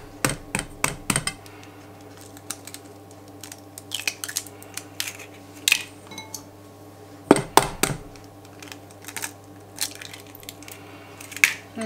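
Batter being mixed with melted butter and eggs in a bowl for lemonies, giving a run of close, quick clicking and tapping strokes with short pauses and no talking.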